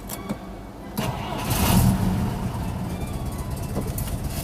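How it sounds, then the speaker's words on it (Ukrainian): A VAZ-21011 left standing for seven years, started without its own battery, cranks and then catches with a loud rising rumble. It settles into a rough, steady idle close by. "Спробуємо зробити перший запуск без акумулятора."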